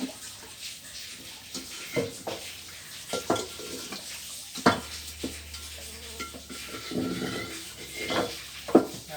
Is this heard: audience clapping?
no